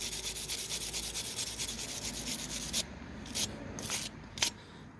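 A brush scrubs brake pads and parts clean in a steady, close, faint rubbing rhythm, ending with a few sharper strokes.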